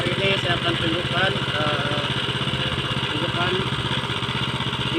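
A mini cultivator plow with a modified blade runs steadily in a paddy field, its small engine loud and close with a continuous buzzing drone that never lets up.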